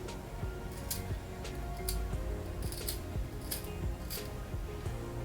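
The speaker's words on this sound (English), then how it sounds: "I'm just going to take my razor and I'm just going to cut up." Razor cutting through the hair of a Mongolian curly wig, a run of soft, close snipping and slicing strokes with periodic crisp bursts over a steady low background, no talking.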